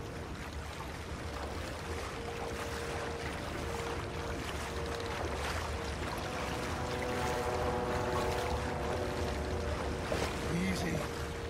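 Rowing a boat quietly across water in the video game Red Dead Redemption 2, with steady watery wash and low ambient hum throughout, a soft splash near the end.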